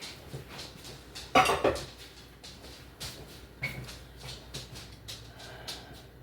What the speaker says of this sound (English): we don't need our bowl anymore, so I'm putting it in the sink